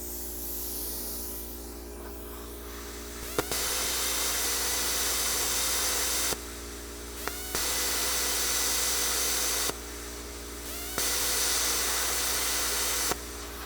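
Eastwood Versa Cut 40 plasma cutter slicing 1/4 inch aluminum in a garage: four loud, steady hissing bursts of a few seconds each, starting and stopping abruptly with short pauses, over a constant low machine hum.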